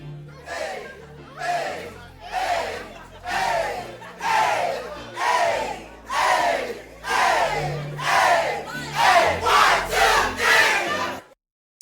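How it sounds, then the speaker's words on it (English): A group of friends chanting in unison for a pop/R&B song, rhythmic bursts repeating about once a second, growing quicker and denser near the end before stopping abruptly. "the first thing you'll hear in the song that we added are the chants"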